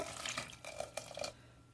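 Water splashes into a cooking pot for a banana stem kootu in short, uneven bursts, fairly quiet and close, then settles into near silence.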